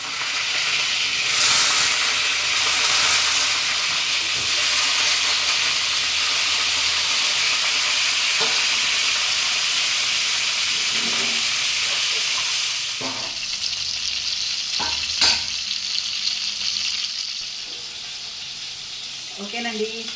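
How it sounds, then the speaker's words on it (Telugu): Whole dark hybrid eggplants frying in hot oil for a stuffed eggplant curry, a steady close sizzle and crackle with a few stirring clinks near the end. "ముందు మనము ఆయిల్లో ఫ్రై చేసుకుంటే కర్రీ చాలా బాగుంటుంది"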